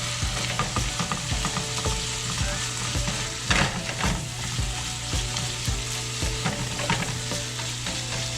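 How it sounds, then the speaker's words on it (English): Onions and mushrooms fry with pieces of deer heart in a hot pan, giving a steady, dense sizzle with occasional scraping and stirring clatter throughout. "I'm gonna go ahead and add my onions and my mushrooms back in and get that cooking with everything else."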